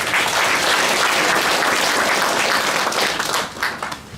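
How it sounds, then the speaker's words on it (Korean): Crowd applause welcoming county governor Kim Seok-hwan at a town-hall meeting with residents in Galsan-myeon, Hongseong County; loud, busy clapping fills the room steadily before tailing off in the last moment. "김석환 군수님께 큰 박수로 환영해 주시기 바랍니다"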